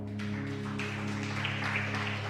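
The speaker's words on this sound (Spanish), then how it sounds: "Yo creo que vale la pena aplaudirle al Señor." A church congregation applauds together in a sustained wash of clapping that starts almost at once and holds steady, fairly soft, over a constant low hum.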